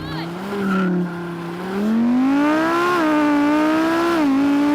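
An Audi RS with a V10 engine launches hard from a standstill under launch control, its harmonic engine note climbing steadily and loudly through the gears with brief dips at each upshift, all close up.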